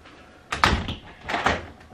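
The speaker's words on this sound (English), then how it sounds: "just now I was going to shut this door." An interior door is pushed shut, giving two close, moderately loud bursts of wooden knocking and rattle about a second apart, with no talking.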